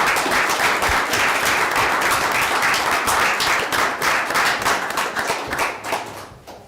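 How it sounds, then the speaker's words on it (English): Sustained applause from a city council meeting audience, dense and steady clapping that fills the room before thinning slightly toward the end. "we're going to give a round of applause first"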